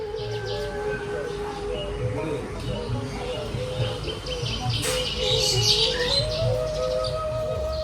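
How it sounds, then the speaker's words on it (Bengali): Myna birds call in the morning around coconut trees, with repeated chirps and tweets scattered over a steady background hum; a few calls are close and fairly loud. "সকালবেলা উঠে এখানে এসে পাখিগুলো ডাকাডাকি শুরু করে"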